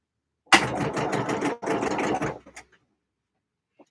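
A sewing machine stitching scrunchies runs in two short close bursts of about a second each, with a steady whirring needle rhythm. A brief pause separates the bursts, and a few faint clicks follow before silence.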